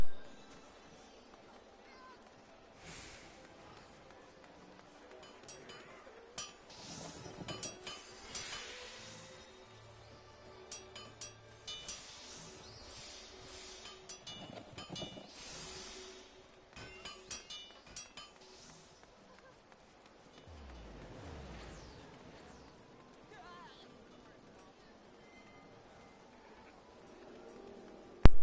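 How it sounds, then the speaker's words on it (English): Faint, busy crowd ambience from a packed, popular area in Final Fantasy XIV: low murmuring voices with light clinks and chatter running steadily throughout, quiet and diffuse with no single sound standing out. "That's the sound of crowds that they put in whenever an area is super busy and popular."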